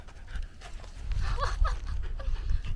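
A friendly dog on a Tuscan roadside pants and snuffles close by in short bursts, with faint outdoor rustling around it.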